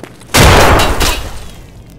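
A grenade blast in the video game Escape from Tarkov: one loud, close explosion bursts in suddenly, holds for about a second, then decays into a rumbling tail.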